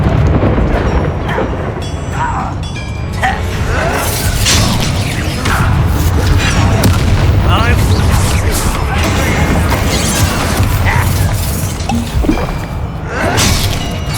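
Confringo and Incendio spell blasts go off in Hogwarts Legacy amid a dense, loud battle, with continuous crashes, booms and impacts layered over game music and effects.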